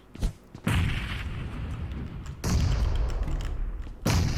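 Grenade explosions in the PUBG Mobile battle royale game: a handful of heavy booms with rumbling tails, spaced irregularly and loud, with no talk over them.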